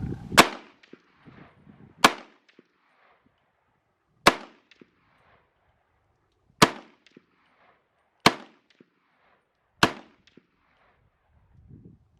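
Six sharp, loud gunshots from a Winchester M1 Carbine, spaced roughly two seconds apart outdoors, each a crisp crack with a short echoing tail, faint movement noises between shots.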